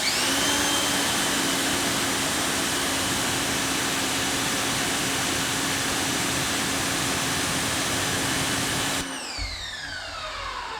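A Westinghouse EPX3050 electric pressure washer, rated 2050 psi and 1.76 gpm, sprays with a loud, steady motor whine and hissing water jet that cuts off abruptly near the end, leaving the pump winding down.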